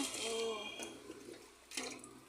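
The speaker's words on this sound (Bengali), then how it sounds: "দিদি এখন জল দেওয়ার টাইম, এই যে জল দিচ্ছে।" Water runs and splashes onto potted plants in a home garden of mango, pomegranate and flowering trees, a soft, steady, close gush that fades and then surges again near the end.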